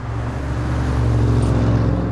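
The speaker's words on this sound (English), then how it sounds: "it's got the best soundtrack, the best engine noise" A sports car engine on the Goodwood Circuit race track hums steadily and loudly nearby, its pitch holding and slightly rising, with a faint whine on top.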